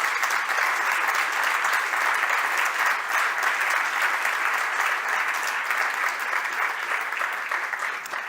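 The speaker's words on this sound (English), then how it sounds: "give a big hand of applause to our panel" Sustained applause from a conference audience for a panel of specialists at a forum on the Ukraine war and China, dense even clapping throughout, slightly tapering at the end.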